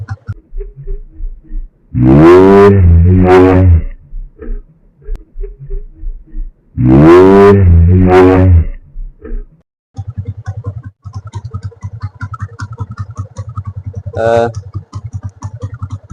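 A motorcycle engine runs with a steady low, pulsing throb during a police roadside stop, coming in after two loud bursts of talk and carrying on alone to the end.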